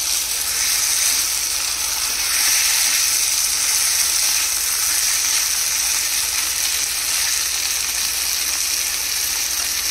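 Chicken bhuna sautéing in a pan gives a steady, close sizzle and fry hiss with faint stirring scrapes, holding evenly for about ten seconds.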